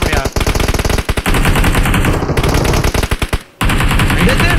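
Rapid automatic gunfire from the mobile battle royale game BGMI, loud bursts of fast repeated shots with a short pause between volleys and a brief gap near the end.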